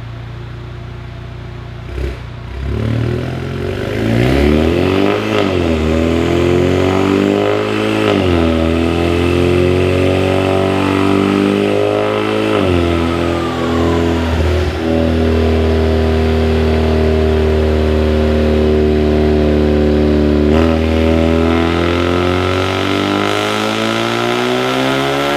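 An Ecoboost Mustang with a Comp 5858 drop-in turbo on a dyno, its engine revving loudly and climbing steadily through a long pull, rising in pitch with brief dips, close and continuous with no talk.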